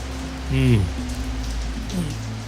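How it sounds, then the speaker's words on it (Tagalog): Heavy rain pours down steadily as a constant wash of broadband noise, with a brief voice-like sound rising over it early on. "pero napakalakas ng ulan"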